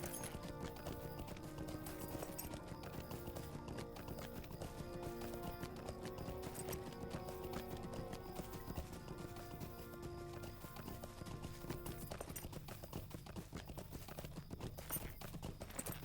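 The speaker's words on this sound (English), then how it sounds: "I can't do it while on a horse." Rhythmic clip-clop of a horse's hooves while riding in the fantasy online game The Lord of the Rings Online, steady and continuous over game music and ambience, with no talking.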